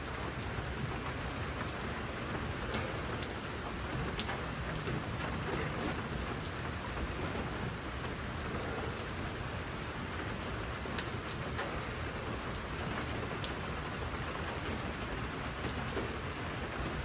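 Steady rain falls outdoors at an off-hand shooting session, a dense, even hiss of drops on surfaces throughout, with a few faint sharp ticks and no talking.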